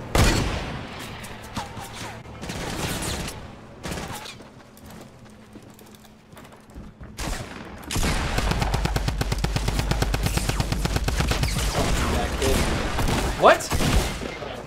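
Rapid automatic gunfire from a Fortnite match comes in fast, steady bursts, loud and close in the second half, with scattered shots earlier and a player talking over the action.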